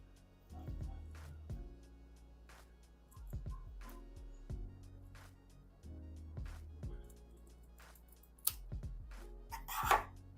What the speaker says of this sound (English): Okay, so I will cut this out.